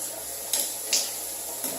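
Running tap water wetting makeup brushes held low under the stream: a steady faucet hiss with a few brief splashy bursts as the brushes move, no talking.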